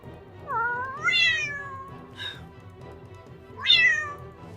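A cat meows several times, rising drawn-out calls with a brief quieter chirp between them, close and clear over faint background hum.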